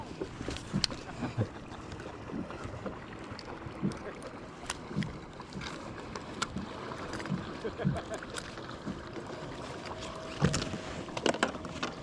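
Faint splashes and paddle dips from a kayak out on open water, irregular strokes spread across twelve seconds over a soft bed of wind noise, with no voices.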